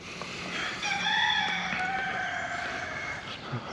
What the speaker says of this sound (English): The chickens are wide awake this morning,